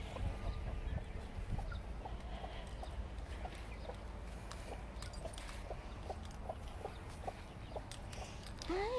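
Chickens with baby chicks behind chicken wire in a garden plot, many soft clucks and high peeps scattered over a steady outdoor background, close and continuous.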